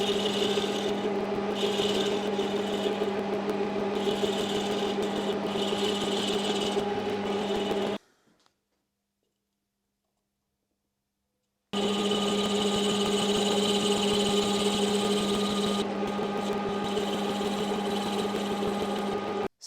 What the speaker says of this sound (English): I'm going to use a combination of the 90° and 60° cutting tools. And I'm just going to form that by pushing in.